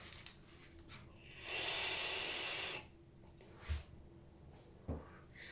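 Vape device with a Smoke tank and Horizon Tech Falcon coil at 0.17 ohm and 70 watts: a close airy hiss of a drag lasting about a second, followed by a couple of soft puffs and exhales.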